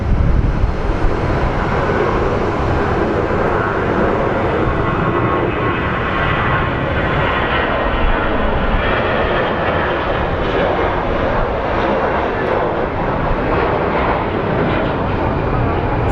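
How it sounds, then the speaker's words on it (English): Airliner taking off at Phoenix Sky Harbor airport, its engines roaring loud and steady for the whole stretch, with a broad rumbling wash that stays strong throughout. "This isn't going to be their traditional steep takeoff."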